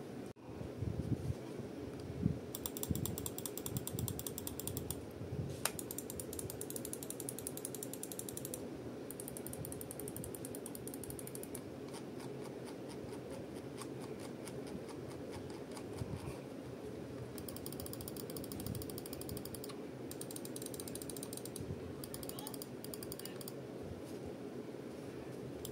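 Button switches clicking steadily in a quiet sound test, a dense run of crisp, light mechanical clicks and ratcheting taps close up, continuing without pause and with no talking.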